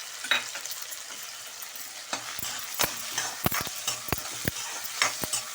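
Onions sautéing with salt in a pan, a soft continuous sizzle broken by a run of sharp spatula scrapes and clicks against the pan, close and without talk.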